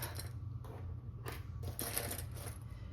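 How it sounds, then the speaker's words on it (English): A home sewing machine stitching fabric for a knot tank top, a steady low mechanical hum with light rhythmic clicks running continuously and close throughout. "And I'm gonna sew this up"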